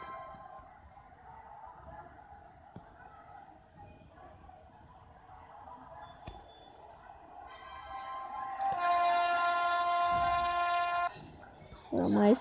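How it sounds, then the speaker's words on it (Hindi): A passing train hauled by a WAP-4 locomotive rumbles alongside a stationary Kota Jan Shatabdi at Kota Junction, building to a loud, sustained horn blast near the end over a low background rumble. "हमारे साइड से कोई ट्रेन भी निकल रही है जो कि किसी वैम 4 के साथ है"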